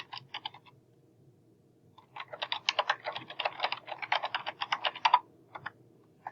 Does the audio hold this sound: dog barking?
no